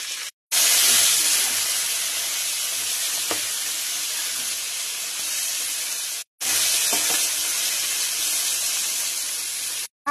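Five whole spice seeds, including fennel, frying in hot oil for a Bengali cabbage dish, a loud close continuous hiss and sizzle with two brief breaks.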